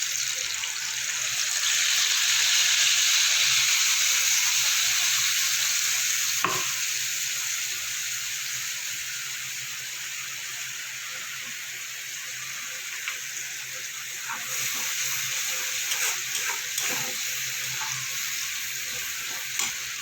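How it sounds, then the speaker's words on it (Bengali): Whole spice tempering crackling in hot oil in a pan for ridge gourd and potato curry, a continuous hissing sizzle with a sharp click early on and scattered utensil taps toward the end. "এবার আমি ফোড়নটা ভাজা হয়ে গেছে"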